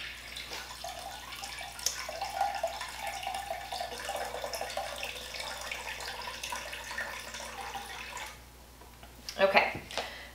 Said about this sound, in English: take it from this vessel and put it into a measuring cup to pour